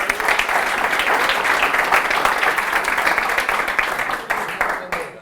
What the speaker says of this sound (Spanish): Un aplauso para el despistado